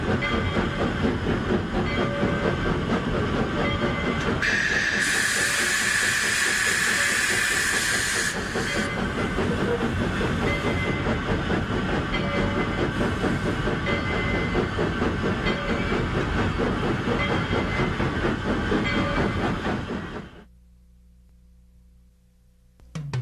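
Steam train in the Trainz12 game, on the Cumbres & Toltec narrow-gauge line, stopped at Osier, Colorado: a steady rumbling chuff and clatter with a loud hiss of steam in the middle, then the sound drops away to near quiet.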